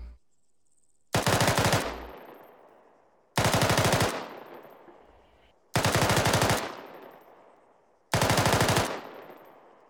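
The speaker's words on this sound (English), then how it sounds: "So rapid rate of fire is going to sound something like this." Machine gun firing at a rapid rate, four separate bursts of several rounds each, loud and sharp with echoing decay between them, evenly spaced with no talking.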